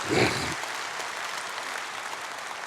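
Church congregation applauding during a dawn prayer service: a brief voice or shout at the start, then steady massed clapping from a large crowd that continues evenly.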